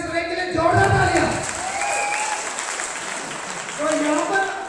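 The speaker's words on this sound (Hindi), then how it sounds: "एक बार इस रैंक के लिए जोरदार तालियां।" Audience clapping in a burst of applause, fairly loud and sustained, with a voice talking over it at the start and end.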